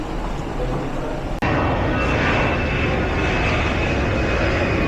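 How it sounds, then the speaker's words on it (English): An easyJet Airbus A319 with its jet engines roaring loud and steady close by, a brief sharp break near the start before the constant engine noise resumes. "There we go, A319, EasyJet"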